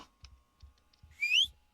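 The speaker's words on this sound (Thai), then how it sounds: "เฮดคือไอ้นั่นไง เป่า นกหวีด" A whistle blows inside the Roblox horror game Apeirophobia, one bright rising tone lasting about a quarter second, following a few soft low thumps like footsteps, with no talking.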